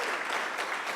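Crowd of meetup attendees clapping in a room, a brief, dense burst of applause at fairly close range, steady and unbroken with no talking over it.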